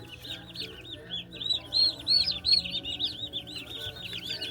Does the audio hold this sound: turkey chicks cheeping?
yes